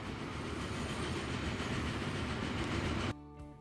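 A train in the Transport Fever 2 simulation game rolls past with a loud, steady rumble and rhythmic clatter of wheels, cutting off abruptly near the end into quieter background music.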